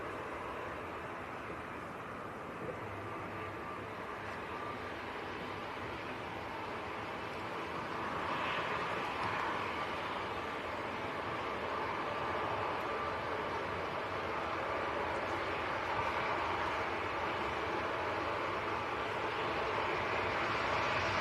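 A Ryanair jet roars at Manchester Airport in crosswinds, a broad steady rumble that swells louder about halfway through and then holds, heard from a distance.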